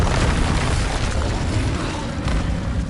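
Incendio fire spell cast in the Hogwarts Legacy video game: a loud, deep booming rush of flame that roars continuously and close for around three seconds, heavy in low rumble.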